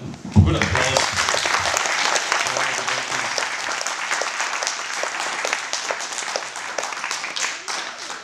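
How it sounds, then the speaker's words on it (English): Audience applause fills a hall after a devotional performance, a dense, steady wash of clapping that starts abruptly and holds loud throughout, with a brief low voice at the very start. "let's all give a good applause"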